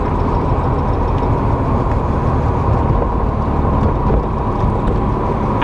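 A 1987 MK2 Volkswagen Jetta on a short drive, a steady broadband engine and road rumble heard from inside the car, loud and constant with no talking.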